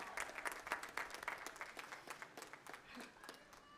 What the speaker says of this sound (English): Can we applaud the families and significant others?